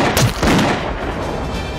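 Gunfire in a tense drama scene: two sharp, loud shots crack in quick succession near the start, followed by a lingering noisy rumble.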